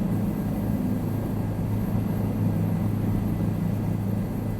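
A Bell 407 helicopter flies in Microsoft Flight Simulator 2024 over Rio de Janeiro, its engine and rotor making a steady, dense, loud rumble that continues unbroken throughout.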